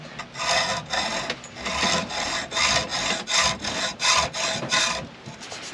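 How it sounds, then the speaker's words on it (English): Hand filing rounds and smooths the edges of cut sail track pieces aboard a sailboat, a series of about a dozen rhythmic rasping strokes, close and fairly loud, with short gaps between them. "just rounding off the edges and smoothing them"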